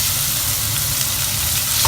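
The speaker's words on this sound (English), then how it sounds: "fry the onion till it's translucent" Chopped onion frying in a pan with ginger garlic paste, a steady close hiss of sizzling oil running evenly throughout, with no talking.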